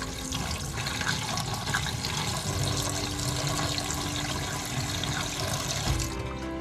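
Liquid runs steadily down a sink drain in a Jayco 224 BH camper trailer, a continuous rushing, gurgling flow close by, ending with a brief knock.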